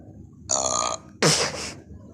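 Two loud, close burps in quick succession from a cartoon character in a Simpsons burping contest, the second deeper and longer, each about half a second, with quiet between them.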